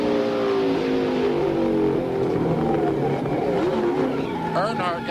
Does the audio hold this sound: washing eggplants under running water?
no